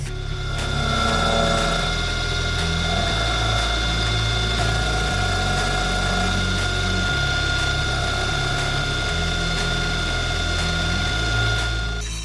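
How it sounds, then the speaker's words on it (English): Milling machine cutting the cam chain gallery supports off a prototype motorcycle engine cylinder head, a loud sustained mechanical drone with shifting low motor tones and steady tonal whine, stepping in pitch several times, no talking. "I've just chucked the head back in the mill, and we're going to remove all of these cam chain gallery supports"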